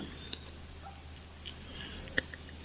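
Crickets chirp in a continuous high, shimmering trill on a quiet night, faint and steady, with a few soft taps and ticks scattered beneath.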